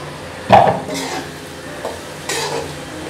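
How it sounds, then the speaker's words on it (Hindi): Water poured into a pan of chicken cooking with chili and yogurt for jalfrezi, heard as a sharp splash and clatter followed by a few softer bumps and stirring sounds, close and unaccompanied by talk. "अब थोड़ा सा पानी इसमें ऐड करेंगे।"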